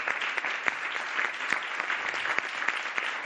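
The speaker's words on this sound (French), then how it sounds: "ça, on peut vraiment l'applaudir." An audience at a French food-and-city talk applauds a press cartoonist, with sustained, even clapping from a sizeable crowd and occasional sharper claps standing out.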